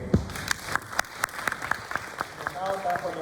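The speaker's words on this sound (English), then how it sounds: "So let's applause Group 3 again." An audience applauds a student group after their presentation at an international university presentation event, with scattered, fairly sparse claps in a steady rhythm and a voice rising near the end.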